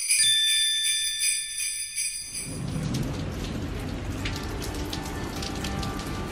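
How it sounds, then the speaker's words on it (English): Rain falling outside on a December day, a steady broadband hiss with scattered drop patter filling the clip after a quieter opening with faint high tonal ringing. "it is raining outside"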